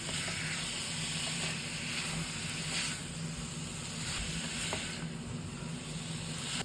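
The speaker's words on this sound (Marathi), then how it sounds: "आता मी त्यामध्ये एक वाटी खोबरं घालते आणि मी मंद आचेवर परतून घेते" Grated coconut roasting with melted jaggery in a pan over low heat, giving a soft, steady hiss and faint sizzle throughout, quiet and continuous with no talking.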